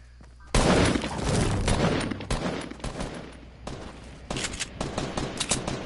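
Rapid gunfire from a video game shootout, dense automatic bursts up close that run almost continuously, with a few short breaks between volleys.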